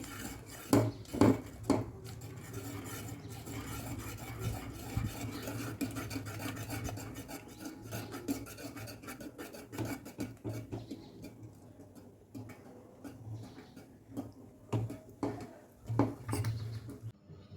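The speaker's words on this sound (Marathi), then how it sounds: "आता मी लाटण्यानं हा चीक मिक्स करते आहे कंटिन्यू लाटण्यानं चीक मिक्स करत राहायचं आहे" Rice flour paste for chakli being mixed with a rolling pin, continuous rasping, rubbing strokes with occasional knocks against the vessel, moderately close, with faint bird calls in the background.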